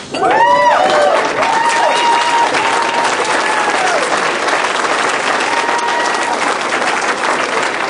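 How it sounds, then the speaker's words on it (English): Wedding guests burst into steady applause after a toast to the couple, loud and close, with a few whoops and voices rising over the clapping before it settles into a sustained patter. "A round of applause."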